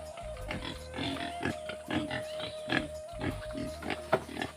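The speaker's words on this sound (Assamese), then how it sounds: "এইবিলাক গাহৰি," Pigs grunt repeatedly on a small pig farm in an open spot away from houses, a run of close, rhythmic snorts and grunts at moderate volume.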